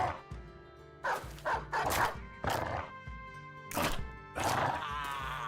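Dogs bark and yap in a video game, several short loud bursts in an irregular rhythm over a quiet game background.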